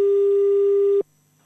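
Telephone busy tone after a call is hung up: a single steady, loud beep holding for about a second, then cutting off into a quiet low hum.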